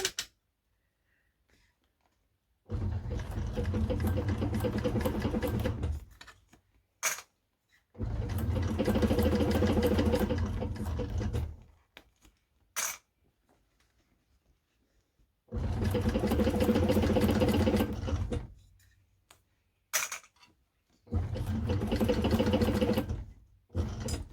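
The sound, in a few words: Cowboy CB6900 sewing machine stitching thick layers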